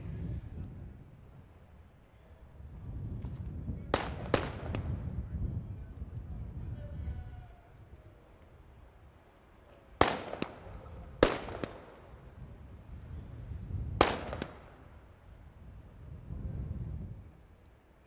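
Sharp, loud rifle shots from a sniper challenge at a SWAT competition crack out in pairs and singles, seven in all spread over the stretch, each with a short echo tail, over steady wind and low outdoor rumble.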